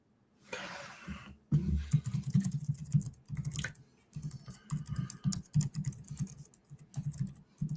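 Quick bursts of typing on a computer keyboard: rapid, close clattering keystrokes in uneven runs, separated by brief pauses.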